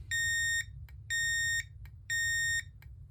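An Edwards Fireshield conventional fire alarm panel sounds a trouble alarm, beeping in three long, loud, evenly spaced tones, with short faint blips between them over a low background hum.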